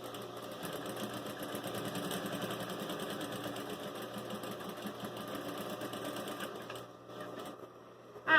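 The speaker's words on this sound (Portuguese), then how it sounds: "Agora a gente vai passar, bater a costura bem rente, só pra ela ficar mais bonitinha. Com a beiradinha da máquina na costura." Sewing machine stitching a seam close to the edge of a piece of denim, a steady fast mechanical whir running continuously for several seconds before briefly slowing near the end.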